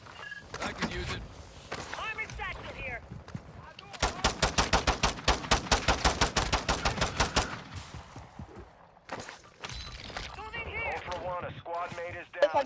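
Rapid bursts of automatic gunfire in a video game war battle, with a sustained stretch of sharp, evenly spaced shots in the middle. Radio-style voices talk before and after it.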